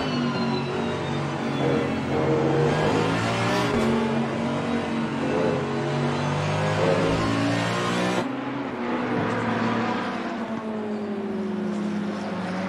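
McLaren and Ferrari GT race cars at the Nürburgring in Assetto Corsa Competizione roar continuously near and loud, engines rising and falling in pitch through gear changes, with a sudden cut in the sound partway through.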